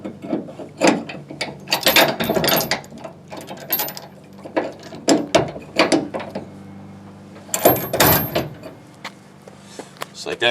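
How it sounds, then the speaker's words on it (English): Ratcheting 3/4 inch wrench tightening a bolt on a Haul Master load distribution trailer hitch, with repeated close clicking strokes in uneven bursts and a brief pause midway, alongside a voice. "Just a 3/4 inch wrench will tighten that up for you."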